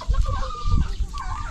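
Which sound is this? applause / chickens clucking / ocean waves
chickens clucking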